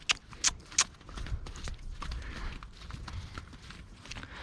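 Horse hooves walking on a lunge line, a soft steady plodding of footfalls close by, with a few sharp brief clicks near the start.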